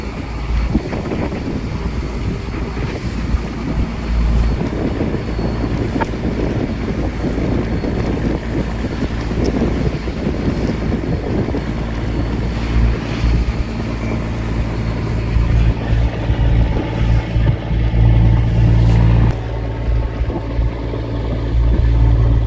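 Small boat running slowly through strong waves and wind at sea, continuous loud engine drone with wind buffeting the microphone and water slapping the hull.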